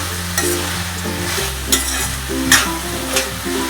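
Mixed vegetables stir-fried in a pan for mint rice, close loud sizzling with repeated sharp scrapes and clanks of a spatula stirring, a low steady hum underneath, no talking.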